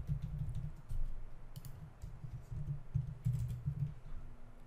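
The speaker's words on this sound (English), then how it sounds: "I'm just going to type JS desktop application" Fingers type on a computer keyboard in fast bursts of soft, close keystroke clicks, briefly pausing between runs of typing in an otherwise quiet room.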